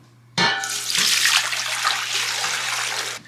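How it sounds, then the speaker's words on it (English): Liquid pours and splashes steadily as fabric is soaked in a soda ash solution before Procion dyeing for shibori tie-dye; the sound is a close, continuous rush that starts abruptly and holds steady. "First I'm going to soak it in my soda ash solution."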